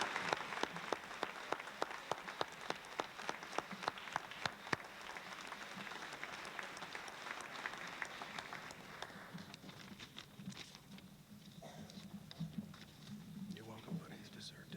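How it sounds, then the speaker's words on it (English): Applause for award winners at a 2002 senior recognition event: sharp, distinct claps through the first half that thin into a murmuring crowd, with voices talking quietly underneath toward the end. "How about a big round of applause for all these principal award winners?"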